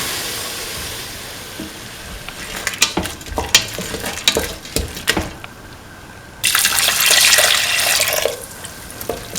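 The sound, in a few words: pouring coconut milk into pan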